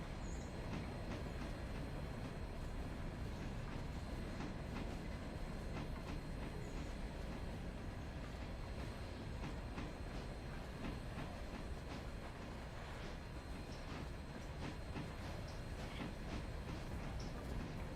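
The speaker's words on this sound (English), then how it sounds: "This is the biggest locomotive on the roster at the moment." The biggest locomotive on the roster in the railway game Railroader runs along the track, a steady low rumble with faint rhythmic clatter at an even, moderate level and no talking.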